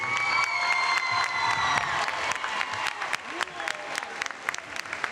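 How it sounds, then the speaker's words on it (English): At a high school volleyball game between MacArthur and McCollum in the McCollum HS gym, a crowd claps loudly and steadily with scattered cheers and whoops, and the applause thins toward the end. "Let's give it up one more time for Miss Gonzalez."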